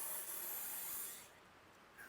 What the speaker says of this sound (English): Some of that fogging oil we'll definitely spray in here